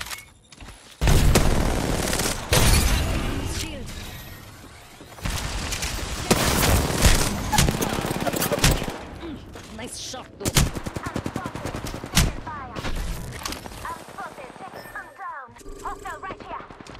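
Heavy gunfire in a frantic Apex Legends firefight with Rampart: loud bursts of automatic and single shots come in clusters, with quieter stretches of scattered fire and game effects between them, while a voice talks over the action.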